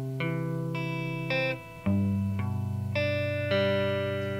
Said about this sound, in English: Those two chord arpeggios put together sound like this.